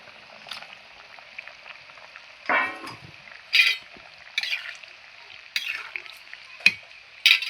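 Wet bubbling and spattering from a tangy curry broth with potatoes simmering in a pan comes in short bursts over a steady faint hiss, with occasional sharper pops.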